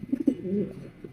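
A pigeon, one of a fancier's racing breeder and flyer birds, gives soft low cooing notes up close in a short rolling phrase.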